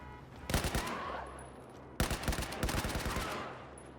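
Two bursts of rapid automatic gunfire from a firefight in the Battlefield 4 campaign, the first brief and the second longer, sharp and fairly close against a low game background.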